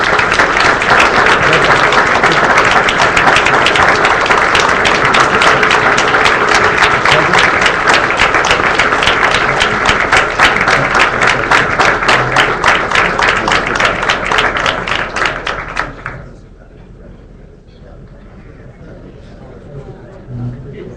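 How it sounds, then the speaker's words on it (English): Loud, dense audience applause for mayoral debate candidates at a Democratic debate in Norwalk, sustained for about fifteen seconds before quickly fading into quiet room noise with faint murmurs. "Now would be a great time to give them all a nice round of applause"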